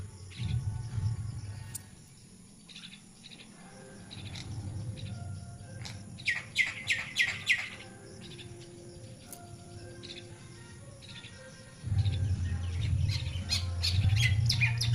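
Birds chirping and calling at a morning feeding, bright bursts of tweets and trills that cluster in a lively run midway, over low background rumble and a faint insect-like hum, with no voices.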